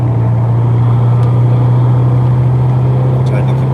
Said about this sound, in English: Trying to keep it revved up so you guys can hear it.